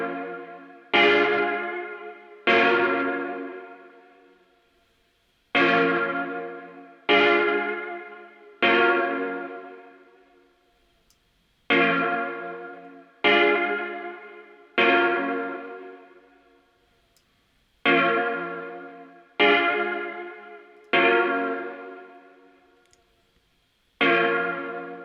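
Short reverb-washed sample hits, each warmed and slightly gritted by tape saturation on a driven preamp, repeat in a loose rhythm of about a dozen ringing, bell-like bursts that decay quickly, loud and alone with no talk.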